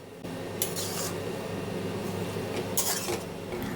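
A spoon stirs and scrapes boiled dal and rajma in a cooking pan, giving a steady close rubbing and scraping with a few sharper strokes.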